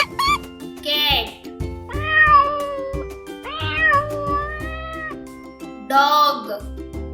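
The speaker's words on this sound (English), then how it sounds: "cat," A domestic cat meows several times in a row, each cry rising and falling, while soft background music plays and a voice speaks in between.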